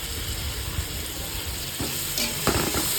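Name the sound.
onions frying in ghee for chicken biryani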